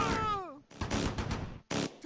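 Machine gun fire in the WWII strategy game Close Combat V, set on the Normandy beaches in June 1944: a short voice at the start, then dense, loud bursts of rapid gunfire with a brief gap before a final burst.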